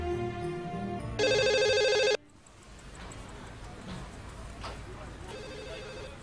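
Telephone bell rings in a short loud burst indoors, then cuts off, followed by quieter room sound with faint voices.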